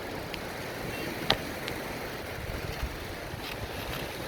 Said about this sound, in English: You can hear the surf better, not hearing the wind go into the mic.